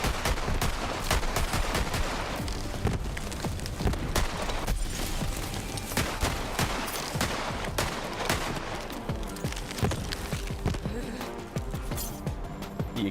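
Rapid gunfire from an incendiary weapon in the Borderlands video game, dense bursts of shots and impacts continuing throughout at moderate loudness over game sound.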